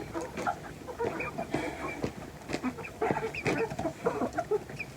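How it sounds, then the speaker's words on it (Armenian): Hens and their chicks cluck and peep close by in a busy, overlapping chorus of short calls that continues steadily throughout. "Էս էլ իմ հավերն ու ճուտերը"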